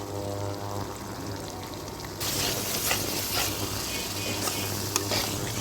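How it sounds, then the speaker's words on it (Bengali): Taki fish mixture stirred in a frying pan once the water has cooked off, a steady close sizzle with scraping spatula strokes that grows louder partway through. "দেখুন পানি শুকিয়ে গিয়েছে, তো এখন আমাদেরকে এটাকে ভালো করে নাড়তে হবে।"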